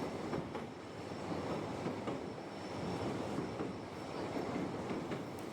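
A train travels on the route to Madurai, heard from on board as a steady rumble with a faint rhythmic clatter of wheels on rails. It stays continuous and moderately loud throughout, with no talking.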